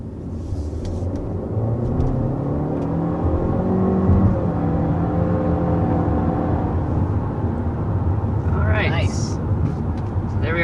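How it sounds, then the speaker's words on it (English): A 2023 Honda Civic accelerates to about 60 mph, heard from inside the cabin as a steady engine whir and road rumble, with tones that climb gradually throughout. "We are accelerating up to about 60 miles per hour with this all-new generation of the Civic."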